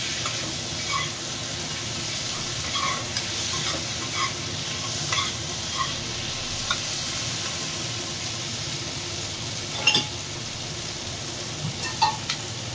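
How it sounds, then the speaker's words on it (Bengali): Cut potatoes fry in a pan with spices, giving a steady sizzle that fills the clip, with occasional stirring scrapes and light clinks of the spoon against the pan. "একটু ভাজা ভাজা হলে দিয়ে দেওয়া হচ্ছে এর মধ্যে কেটে রাখা আলু"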